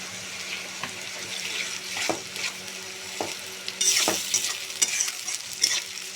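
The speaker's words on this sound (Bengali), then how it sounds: "আমি পেঁয়াজটা ভেজে নিছি একটু নরম করে দিয়ে দিলাম আদা রসুন এবং পেঁয়াজ পেস্ট" Onion fries in oil with ginger, garlic and onion paste for a country chicken curry, giving a continuous sizzle broken by repeated spatula scrapes and a louder burst of hissing near the end.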